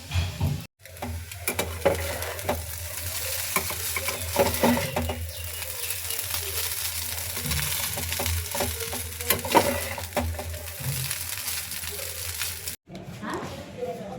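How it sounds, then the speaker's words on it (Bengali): Boiled chowmein noodles frying in a pan, a dense steady sizzle with clinks and scrapes of stirring, close and even in level, with some speech mixed faintly underneath. "আর এই যে বয়েলড করা হয়ে গেছে চাউমিনটাকে, এবার এটাকে ভেজে নেব"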